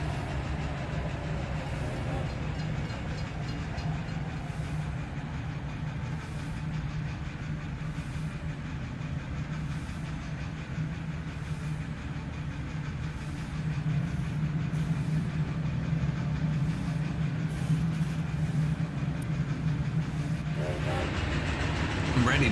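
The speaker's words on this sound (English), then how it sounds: "We have trains now." Trains roll through an industrial colony in the management game Captain of Industry, a steady low rumble and hum of rail traffic carrying on for over twenty seconds, growing slightly louder partway through, with faint clicks over the drone.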